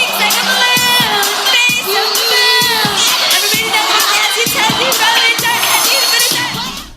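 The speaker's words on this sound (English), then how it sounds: "you can hear the crowd chanting off, off, off so loud that it's literally competing with the festival PA system." A dense festival crowd chants loudly and rhythmically, the repeated shouts pulsing roughly every half second and rivalling a festival PA system, with cheers and whoops mixed in across the whole stretch.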